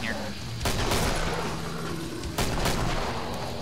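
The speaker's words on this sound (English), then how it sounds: "the hand cannons, with their extra penetration and their high rate of fire, high DPS" Hand cannon fire in the video game Killing Floor, heard as two sharp, loud booming shots a couple of seconds apart over dense, continuous game noise and rumble.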